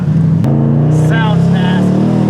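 Dodge Challenger R/T V8 with a loud, steady engine rumble that holds throughout, with people chatting over it.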